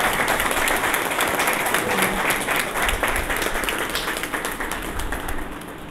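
An audience at a football award ceremony for a Balochistan team breaks into loud, sustained applause, dense clapping that holds steady for several seconds before easing slightly.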